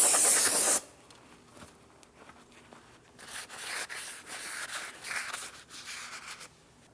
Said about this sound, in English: We'll use some parts cleaner.